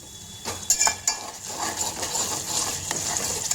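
Spice paste sautéed with golden-brown onions in a pan for soybean chunk curry, a moderate sizzle with a few spoon clinks and scrapes against the pan, no speech.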